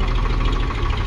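An Eicher 551 tractor engine runs under load in a brief, close, rough, throbbing rumble with a steady knocking pulse.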